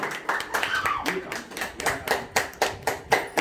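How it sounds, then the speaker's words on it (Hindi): A small group claps hands in a quick, even rhythm at a housewarming ceremony, the claps close and distinct with a little room murmur underneath. "ताली बजाइए।"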